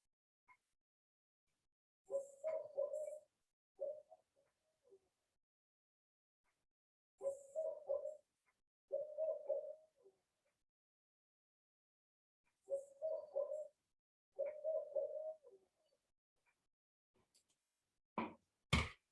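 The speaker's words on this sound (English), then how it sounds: "to see the visualization of the owl singing" A recorded owl call played back plays as short, faint groups of hooting notes separated by long silences, repeated four times, with a brief sharp thump near the end.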